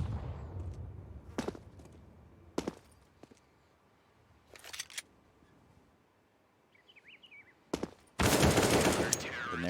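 Counter-Strike gunfire on the Overpass map, pistols against rifles, arrives as scattered sharp shots and short bursts at mid distance, closing in a loud, dense volley near the end.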